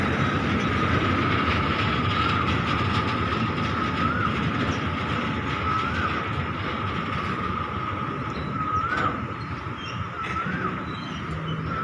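A train rolling past on a railway line in Thailand, a loud, steady rumble of wheels on track with rhythmic clatter and faint squeals, close and continuous throughout.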